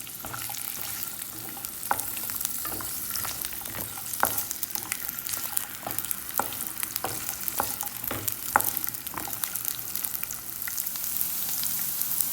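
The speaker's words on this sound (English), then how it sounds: "You have to saute it for about few minutes" Ginger and green chilies saute in oil for a garlic pickle, a steady close sizzle broken by sharp crackles and pops and the occasional scrape of a spoon stirring the pan.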